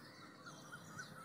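A crow caws in a few short, repeated calls near goats, moderately distant over steady outdoor background hiss.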